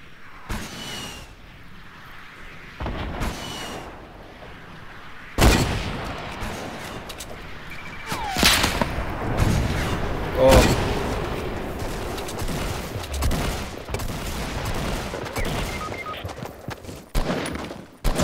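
Gunfire in the mobile version of the game Fortnite, repeated sharp shots and bursts with a few louder booms, scattered across the clip and then denser in the second half.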